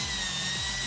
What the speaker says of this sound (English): now we're just going to use a square number 2 bit to remove our screws